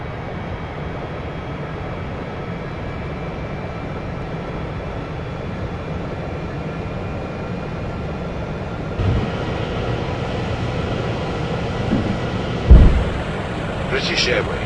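A British Airways airliner takes off from a Gatwick runway, heard from inside the cabin as a steady broadband engine roar that swells partway through, with a few faint bumps and rattles.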